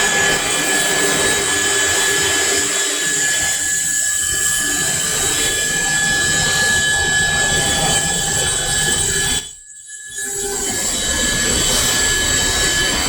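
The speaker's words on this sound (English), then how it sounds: "This is the machine for some blasting." A blasting machine in an Extrema Ratio knife factory in Prato, Italy, producing a loud, constant whooshing roar with high whining tones, broken by a brief drop near the end before resuming.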